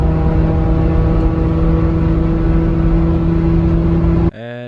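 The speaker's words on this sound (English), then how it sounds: "here's my car shooting a flame" A home-tuned car's engine holds a loud, steady droning idle with a strong hum, sitting close to the exhaust, then cuts off abruptly near the end with a brief mechanical rattle.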